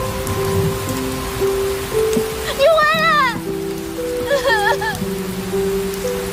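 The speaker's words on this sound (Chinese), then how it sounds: "我知道是现在已经开始下雨" Steady rain patters through a dramatic film scene, with sustained musical tones and bird-like chirps layered over the soft wash.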